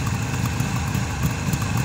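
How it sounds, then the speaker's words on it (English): A 1973 Suzuki GT550 motorcycle engine idles steadily up close, a low, even rumble with a constant throb and no talking. "the bike will just sit there and hold it real nice idle"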